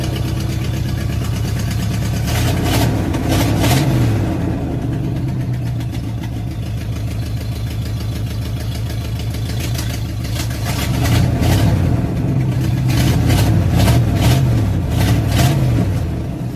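A carbureted four-barrel engine idles cold with a broken choke, a loud close rumble that holds steady and swells in a few uneven surges.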